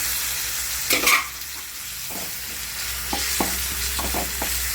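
Tomatoes and red chilli masala fry with onion and garlic in a pan, a steady sizzle broken by a burst of noise and several sharp scraping and tapping stirs near the microphone.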